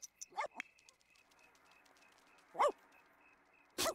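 A dog in The Sims 4 video game gives a few short, faint yips and barks, spaced apart against a quiet game background.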